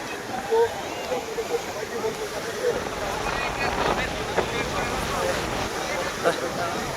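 Rough monsoon sea surf at Digha beach during a low-pressure storm roars in a steady wash, mixed with gusty wind, while voices talk faintly over it.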